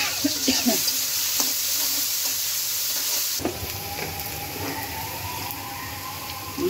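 Onion and chili sizzle loudly in hot oil with scraping stirs at first, then the frying settles into a steadier, slightly softer hiss partway through.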